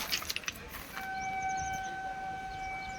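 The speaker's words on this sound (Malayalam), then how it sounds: "നമ്മുടെ ട്രെയിനാണോ എന്തോ ഹോൺ അടിക്കുന്നത്" A train horn sounds from a stopped train during a long rail journey, a steady sustained tone that starts after some brief clatter and holds to the end, moderately distant and fairly faint.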